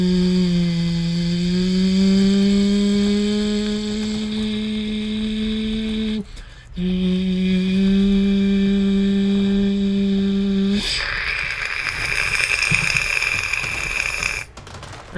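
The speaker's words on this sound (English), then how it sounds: "Can I vacuum? Clean the place up." A vacuum cleaner in the sci-fi horror game SOMA runs with a steady, loud motor hum and whine, cutting out briefly twice and shifting to a harsher, airier suction roar near the end; no one talks over it.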